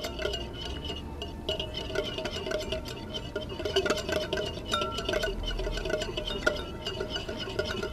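A whisk beats tortellini salad dressing in a bowl, a steady soft patter with light clinks running continuously at moderate volume, with no voices.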